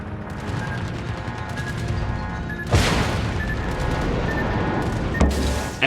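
A torpedo strikes a ship in World of Warships: a heavy, booming impact bursts out over a constant roar of naval combat, with a second sharp blast near the end.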